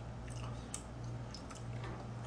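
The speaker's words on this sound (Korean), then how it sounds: "먹으면서 쩝쩝쩝 대지 마라. 그러니 시청자들이 싫어하는 소리가 나는 거잖아." Close, wet lip-smacking chewing while eating spicy stir-fried octopus and pork bulgogi, with soft squishy bites and small smacks running steadily over a low constant hum, no talking.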